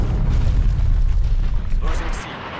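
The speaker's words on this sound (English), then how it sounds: "Artillery targeting detected. Net call, incoming artillery." Incoming artillery blasts in a video game, with a heavy continuous rumble and booming low impacts filling the clip, loud and close, ending in a brighter crackling burst.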